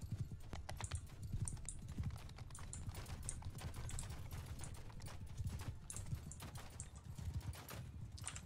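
Steady clip-clop of horse hooves in a medieval-style video game, a brisk continuous rhythm of close, crisp hoof strikes with no talking.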